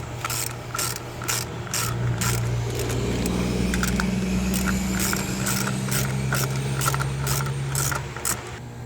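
Ratchet snugging lug nuts back onto a 2013 Chevrolet Malibu's wheel after a driver's side CV axle swap: rapid bursts of metallic clicking in repeated runs over a low steady mechanical hum.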